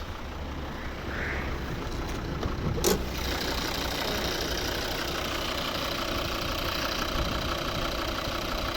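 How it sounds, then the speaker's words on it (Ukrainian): A 2012 Volvo V50 2.0 D3 five-cylinder diesel engine idles steadily with a low, rough rumble throughout, plus a brief click near the start. "знаменитий двигун п'ятициліндровий"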